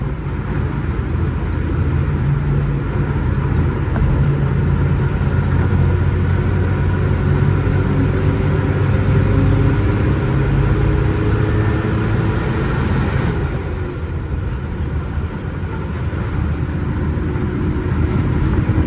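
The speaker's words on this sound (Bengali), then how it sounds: "চলুন এখন আমাদের বাসের ইঞ্জিনের শব্দটা শুনি" Engine of a running Ashok Leyland non-AC Sohag Paribahan bus on the Brahmanbaria to Dhaka route, a loud, steady low rumble and drone heard from inside, continuous with no talking.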